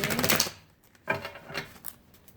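Quick papery riffling bursts, two or three shuffles of a tarot card deck, crisp and close with short pauses between.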